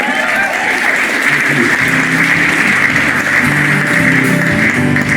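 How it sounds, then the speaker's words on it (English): Sustained applause from a crowd at a Crosley talent show, a dense, steady roar of many hands clapping that fills the whole stretch at close range. "Give me a big round of applause."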